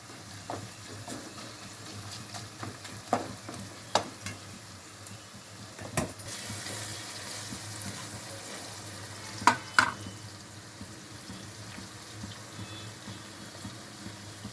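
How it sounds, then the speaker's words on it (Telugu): Egg masala curry fries and is stirred in a pan, giving a quiet, low sizzle with a few sharp spoon clinks and scrapes at irregular moments, heard alone. "మధ్య మధ్య మూత తీసి కలుపుతూ ఉండాలి."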